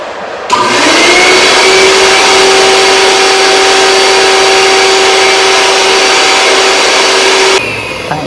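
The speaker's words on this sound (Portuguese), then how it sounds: "ligo esse dispositivo que vai fazer um fluxo de ar passar por esse sistema" An air flow device switches on with an abrupt onset and runs as a loud, steady whooshing roar with a constant tonal whine, then cuts off sharply after about seven seconds.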